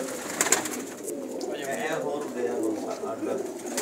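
Pigeons at a Pakistani fancier's home make soft cooing calls with a faint flutter, low and fairly distant under someone talking.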